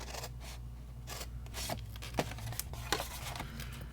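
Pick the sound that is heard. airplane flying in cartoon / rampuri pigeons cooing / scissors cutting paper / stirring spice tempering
scissors cutting paper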